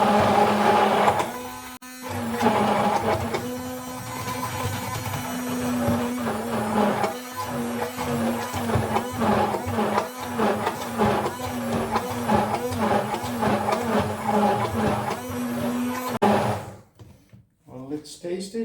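A Silvercrest SSMS 600 hand blender runs at maximum turbo speed, giving a loud, steady motor whine with some rattling that holds for most of the stretch before cutting out near the end.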